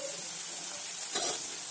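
Onion and turmeric fry in a pan with a soft, steady hiss and a brief louder burst of stirring near the end; short and close, with no speech.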